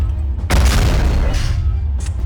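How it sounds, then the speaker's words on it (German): A heavy explosion in the Blitzkrieg strategy game set at Kharkov 1943: a sudden deep boom bursts in after a brief low rumble, rolling on loudly with dense crackle and a second thump near the end. "Was für eine Explosion."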